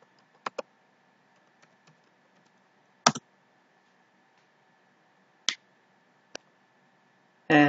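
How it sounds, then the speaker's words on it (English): Keystrokes on a computer keyboard while entering commands in a Linux Ubuntu terminal: a handful of sharp, separate clicks spaced irregularly over several seconds against a faint steady hum, ending in a louder burst of key taps. "just type the following commands"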